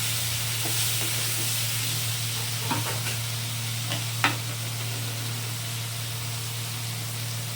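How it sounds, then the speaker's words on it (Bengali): Soybean masala frying in a pan while being stirred, a constant close sizzle with scattered scraping and clinking from the spatula over a steady low hum, no speech. "ভালো করে নাড়াচাড়া করে নিই"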